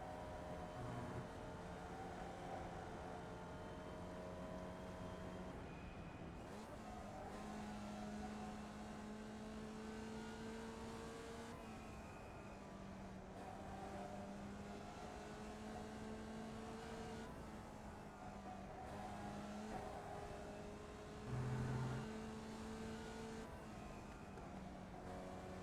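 A Formula Vee race car runs flat out in third gear at the Nürburgring Nordschleife, its engine a steady, fairly faint buzzing drone that holds its pitch with small shifts, plus a brief bump near the end.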